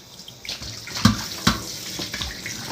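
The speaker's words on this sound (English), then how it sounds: "Lukewarm water, I guess. And now you're gonna pretty much clean off all that lemon juice off the meat." Lukewarm tap water runs steadily over raw goat meat being rinsed in a kitchen sink, with a close, continuous splashing and a few louder splats as the meat is handled.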